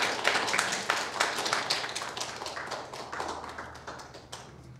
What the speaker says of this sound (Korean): 우리 박수로 한번 환영을 해주십시오